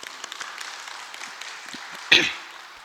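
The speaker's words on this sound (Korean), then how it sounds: "우리 찬양팀을 위해서 박수 한번 하도록 하겠습니다" A congregation at a Friday night church service claps for the worship team, a soft, steady patter that runs throughout and ends on one sharp, loud clap near the finish.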